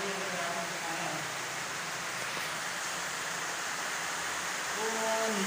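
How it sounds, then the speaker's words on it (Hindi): Steady broadband rushing water, like a stream or waterfall nearby, loud and continuous throughout. "इधर से पानी का शोर आ रहा है"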